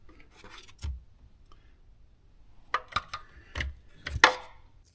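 Porsche coolant vent tubing is snipped in a few short, sharp cuts with small scraping sounds in between, close and fairly quiet against near silence.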